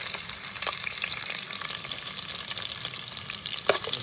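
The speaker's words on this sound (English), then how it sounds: "now we're gonna put in lemongrass, onion, garlic, galanga into the hot oil" Lemongrass, onion, garlic and galangal fry in hot oil as part of a catch-and-cook squirrel meal, giving a close, continuous hissing sizzle with scattered pops and crackles throughout, no voices.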